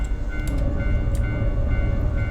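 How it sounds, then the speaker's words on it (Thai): A train rumbles past on a railway in a horror video game set on a deadly rail line. The rumble is steady and fairly loud, with a thin sustained signal tone above it and no voices. "ฉันได้ยินเสียง สัญญาณจากรางรถไฟอีกแล้ว"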